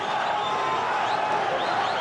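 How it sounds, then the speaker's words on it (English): A boxing arena crowd in Brakpan roars steadily behind a South African fighter. The sound is a dense, continuous wall of cheering with no breaks for two seconds. "And the crowd here behind the South African"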